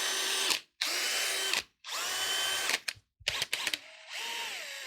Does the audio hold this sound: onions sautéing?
no